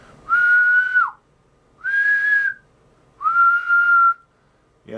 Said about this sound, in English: only by whistling in it